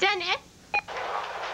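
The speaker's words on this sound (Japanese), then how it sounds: "これが嬉しいキャッチ音。" Telephone call-waiting tone on a Japanese landline from 1991, a short warbling beep burst followed by a brief sharp beep, with a voice speaking at the end.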